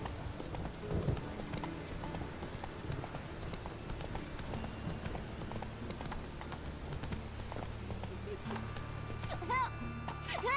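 Horse hooves clip-clop steadily on the ground in The Witcher 3, a continuous rhythmic trot under faint game ambience, with a character speaking briefly.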